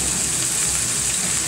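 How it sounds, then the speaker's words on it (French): Onions frying in oil in a wok-shaped pan for samosas, a steady dense sizzle and crackle that stays even and loud throughout, with a dishwasher running in the background. "je vais laisser frire les oignons avec l'huile, simplement pour les roussir un petit peu et les faire fondre"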